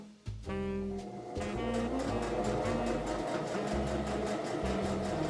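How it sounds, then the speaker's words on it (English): A sewing machine stitches a seam on an envelope pillow cover, running in a close, steady whirring hum with rapid needle clatter after a brief start, and no voices. "It's catching the seam, and I'm just going to continue to sew."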